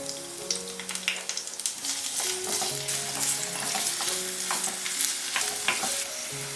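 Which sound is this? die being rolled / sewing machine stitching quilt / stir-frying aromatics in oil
stir-frying aromatics in oil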